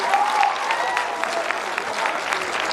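Applause from the crowd at a Gorakhpur Mahotsav 2021 poetry gathering (kavi sammelan), a brisk, even clapping across the whole stretch, fairly close and moderately loud, with a faint voice briefly audible near the start.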